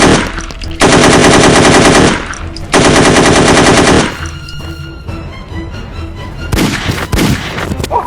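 Automatic weapon fire in a staged fight, loud sustained bursts of rapid shots in two long volleys, then a quieter pause with a ringing tone before another short burst near the end.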